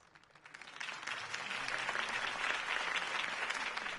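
Crowd applause after a campaign speech in the Batman: The Telltale Series video game, swelling from a faint start into steady, dense clapping that holds at a moderate level.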